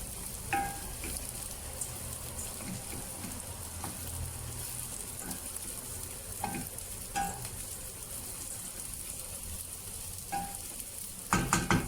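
Filling for stuffed grape leaves (yaprak sarma) sautéing in a pan, a steady close sizzle and crackle throughout with occasional spoon clinks, no talk.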